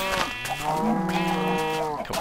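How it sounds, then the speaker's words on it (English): Sheep being sheared in Minecraft give a loud, close, wavering bleat that holds for about two seconds, with a couple of short, soft clicks near the start and end. "Got myself some sheep as well, which I'll just shear these if you'll excuse me."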